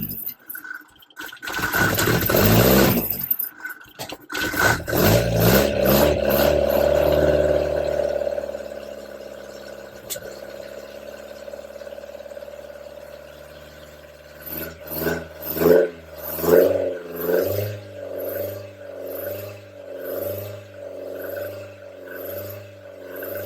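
A Ford crossflow engine in a Marcos sports car cranks briefly on the starter, catches and roars, then revs up and down in uneven bursts before settling into a steady, close idle.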